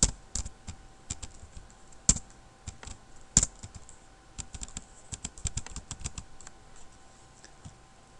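Typing on a computer keyboard during an HTML and CSS dashboard tutorial, irregular close key clicks in short runs with pauses between them, fairly quiet, with no talking.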